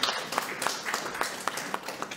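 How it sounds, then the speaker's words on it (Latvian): Audience at a Latvian panel discussion on legal aid clapping for a speaker, a moderate patter of hand claps lasting about two seconds, fairly close and steady. "Aplausi Ingai."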